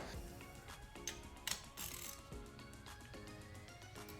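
A socket ratchet snugs down a camshaft position sensor bolt on a 2017-2025 Honda CR-V 1.5L L15BE engine, giving a few quiet, close mechanical clicks against a faint background hum.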